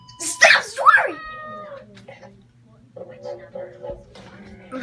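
A pet cat lets out two loud, drawn-out meows close by, followed by quieter talk and low household background sounds.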